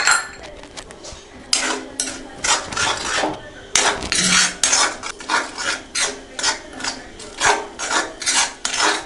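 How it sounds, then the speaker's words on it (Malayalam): Egg thoran with ground pepper stirred in a pan, a metal spoon scraping and rasping across the pan in a steady rhythm of repeated strokes, close and fairly loud, with occasional clinks. "ഇനി നന്നായി ഇളക്കി കൊടുക്കാം"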